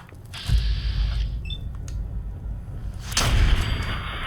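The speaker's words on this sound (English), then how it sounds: "I'm just headshotting some roaches." Gunfire in the video game Fallout 4 as roaches are shot: two loud, close bursts of booming shots with mechanical clanks between them, no speech.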